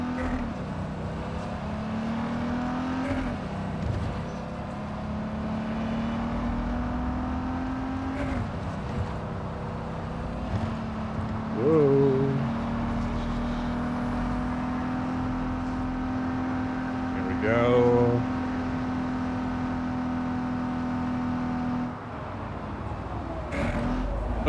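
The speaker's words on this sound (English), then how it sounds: "this car doesn't sound good anymore" A car engine in Cyberpunk drones steadily at a low, sustained pitch, with a few rising and falling shifts in tone, under faint background noise.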